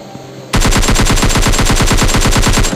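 Rapid automatic gunfire in the mobile shooter PUBG Mobile Lite bursts in after a quiet half-second and hammers on loud and steady, dense evenly spaced shots with no speech.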